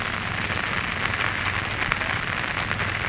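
Constant rainfall during a storm, an even, close hiss of drops pattering on a surface with a faint low rumble underneath.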